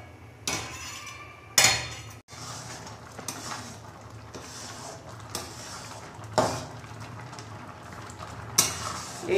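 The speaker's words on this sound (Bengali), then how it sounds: "এইভাবে নাড়তে হবে অনবরত, যাতে নিচে না লেগে যায়।" A spatula scrapes and knocks repeatedly against a pan while a thick sandesh mixture is stirred, giving soft continuous scraping broken by several sharp metallic clinks at irregular intervals.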